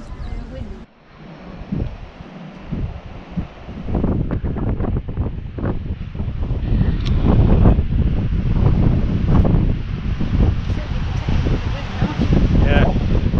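Strong wind buffets the microphone on the English coast, a loud, continuous roar with rustling gusts that builds and stays heavy throughout.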